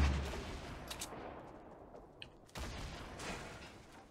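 Several sharp bursts of gunfire ring out in a Fortnite Battle Royale match, with short separated shots over a steady background and a louder burst near the end, no voices.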